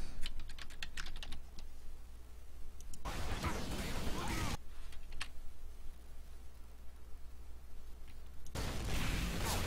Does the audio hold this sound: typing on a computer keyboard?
yes